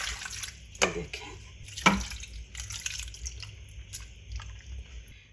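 Water pours into a pot of mango and sugar, a soft, close splashing and trickling with a couple of sharper splashes early on and no talking.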